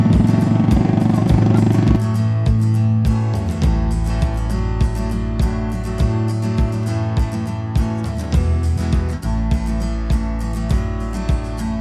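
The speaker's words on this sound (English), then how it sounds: "We've just got the engine going" A motorcycle engine runs steadily and loudly on the Thakhek Loop in Laos, its note shifting around two seconds and again near eight seconds, with harmonic engine tones and small clatters throughout and no talking.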